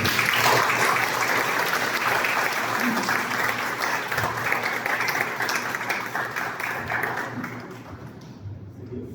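A lecture audience at a history conference on Serafín Olarte claps in sustained, dense applause, loud at first and gradually thinning and fading toward the end.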